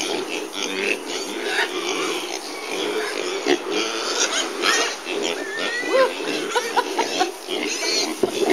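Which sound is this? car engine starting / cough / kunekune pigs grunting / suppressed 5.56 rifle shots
kunekune pigs grunting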